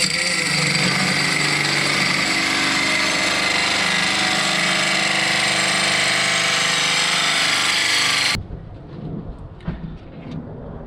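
A drill notches steel pipe, a loud, steady grinding drone running continuously, then stopping abruptly, leaving quieter clatter and background noise.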